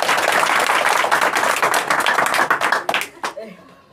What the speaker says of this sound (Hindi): मैं सभी विद्यार्थियों से एक जोरदार ताली चाहूंगा।